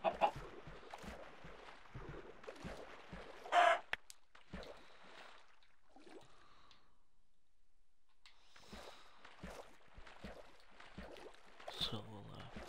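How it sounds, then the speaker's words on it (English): Chickens clucking in the video game Minecraft, several short soft clucks scattered over quiet game ambience, with someone talking over parts of it. "Chicken, I could do with your meat."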